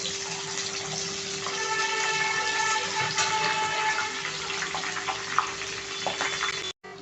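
Green chillies sizzle in hot oil in a home kitchen, a loud, steady crackling hiss that runs unbroken until a brief dropout near the end.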